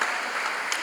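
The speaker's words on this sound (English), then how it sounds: "Applause." Steady applause from a crowd at a professional school's graduation convocation, a dense even wash of clapping throughout with no pauses.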